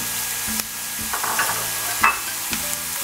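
Smoked pancetta frying with onion in hot oil, a steady close sizzle with occasional clacks of a utensil stirring against the pan, no voices.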